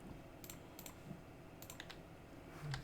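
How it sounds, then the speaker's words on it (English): Keys are pressed on a computer keyboard during 3D modelling work, a few soft scattered clicks in quick pairs over a quiet background hum. "3 on the keyboard"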